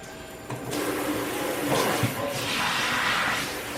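Food waste pours into a kitchen garbage disposal, with a steady rush of water and gurgling hiss that swells midway, close by and continuous.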